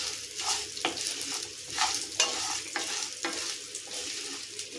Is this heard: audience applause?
no